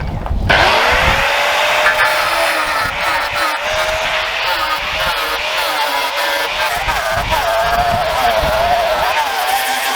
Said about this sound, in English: And then cutting disc for the remaining little debris